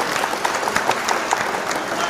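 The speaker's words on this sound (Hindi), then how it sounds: "जोरदार तालियों से आप उनका" Steady clapping from the audience at a humorous Urdu-Hindi poetry gathering as a poet is welcomed, moderately loud, with distinct claps over a continuous wash of applause.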